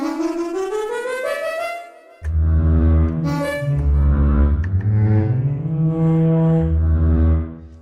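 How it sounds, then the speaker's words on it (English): Synthesized foghorn from a synth plugin, first a rising tonal blare that climbs in pitch, then after a brief drop a deep, loud sustained honk with shifting low notes, heard alone. "Normal Foghorn stops right there, but I have it going."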